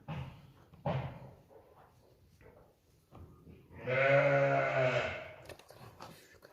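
A sick lamb with severe constipation bleats once, loud and close, a harmonic cry of about a second and a half, with quieter rustling and handling noises around it in a barn setting.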